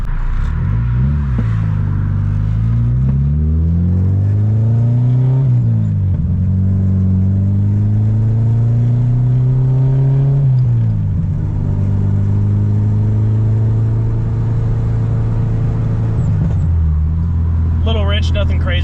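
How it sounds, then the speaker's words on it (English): An Acura RSX Type-S with a K-Pro street tune pulls under throttle from inside the cabin, its engine droning loud and close. The pitch climbs with each gear and drops at every shift, and someone talks over it. "All right, we're taking it for a drive right now."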